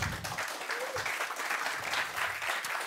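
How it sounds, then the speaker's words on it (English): An audience at a hacker camp talk applauds a presenter on solar-powered autonomous routers, a fairly soft, continuous patter of many hands clapping with faint crowd murmur underneath. "Give him a warm applause,"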